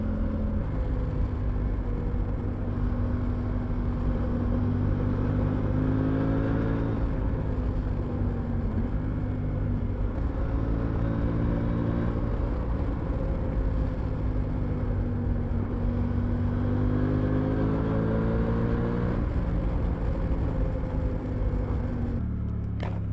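Riding a Suzuki V-Strom 800 DE motorcycle, heard from the rider's position as a constant deep engine drone with shifting pitch as the throttle varies, buried under steady roaring wind noise throughout.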